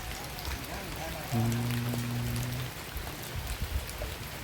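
Steady rain falls outdoors at a rural home, a dense, even hiss throughout with a low droning hum partway and occasional nearby clatter.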